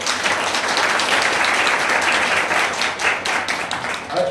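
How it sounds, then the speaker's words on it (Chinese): An audience at a car driving experience day briefing applauds, a steady burst of many hands clapping close by that holds for several seconds before thinning slightly at the end. "大家鼓鼓掌好吗？"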